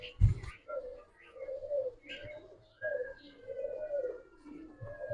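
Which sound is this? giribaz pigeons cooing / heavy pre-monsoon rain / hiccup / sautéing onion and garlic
giribaz pigeons cooing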